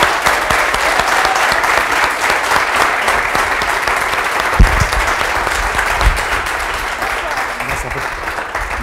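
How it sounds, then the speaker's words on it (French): An audience applauds a guest called onto the stage at an NBA watch-party evening, with dense, sustained clapping filling the room at close range throughout. "Un tonnerre d'applaudissements pour Marie-Patrick, s'il vous plaît"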